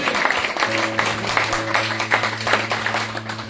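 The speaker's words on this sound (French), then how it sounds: "Acclamez pour la parole de Dieu." A church congregation claps steadily and fairly loudly throughout, mixed with sustained keyboard or organ chords.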